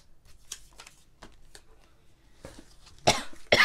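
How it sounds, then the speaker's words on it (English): A person's coughs, loud and close, coming at the end after quiet rustling of papercraft supplies on a table. "Oh, pardon my cough."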